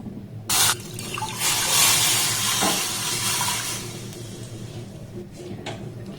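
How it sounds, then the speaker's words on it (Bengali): A full cup of pre-boiled, thickened liquid milk is poured into a pan on the stove while making a sweet without flour, semolina or sugar. It makes a loud, close, continuous gushing splash for several seconds, with no speech. "এবার দেখুন এখানে দিয়ে দেবো 1 কাপ ভর্তি ভর্তি লিকুইড দুধ"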